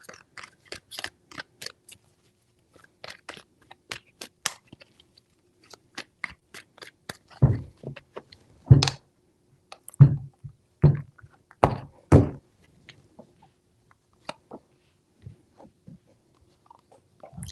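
Tarot cards being shuffled give a string of crisp, close snaps and taps, sparse at first and then a denser run of louder slapping thumps midway, with no voices.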